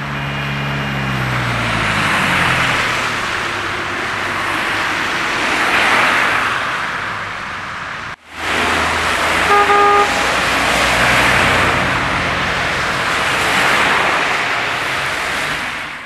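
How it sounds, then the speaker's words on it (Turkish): City road traffic crawls through heavy snowfall in Erzurum, with a continuous roar of car and truck engines and tyres, and a couple of short horn toots partway through. "Tipi şeklinde yağan kar nedeniyle araçlar trafikte güçlükle ilerledi."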